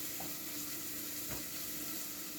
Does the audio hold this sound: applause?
no